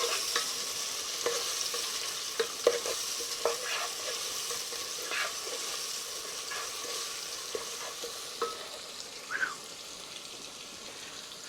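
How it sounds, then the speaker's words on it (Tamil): Chopped onions sauté in a pot for chicken curry at an outdoor cooking spot, with a soft continuous sizzle and scattered light scrapes and taps of stirring, fairly quiet and without talk. "இப்போ வெட்டி வச்ச வெங்காயத்தை போட்டாச்சு. இங்கே வெங்காயம் நல்லா வதங்கணும்."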